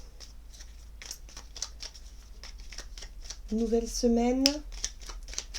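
A small deck of fairy oracle cards is shuffled close up in quick, light riffling bursts, with a voice speaking briefly over the card sounds.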